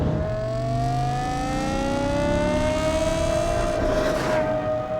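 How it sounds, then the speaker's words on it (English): A car engine on a road drive rises steadily in pitch as the throttle is pressed, a smooth continuous tone climbing with a brief swell of noise near the end and no talking. "Hear the engine note change, and then if I press down, the throttle response is much more insistent."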